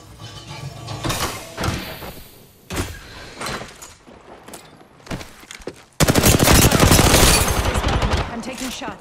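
Gunfire in Apex Legends comes as scattered shots and short bursts early on, then a loud, sustained rapid volley of automatic fire near the end, with game voice lines in between.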